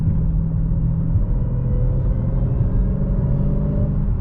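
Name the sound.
car engine intake whine on a cold day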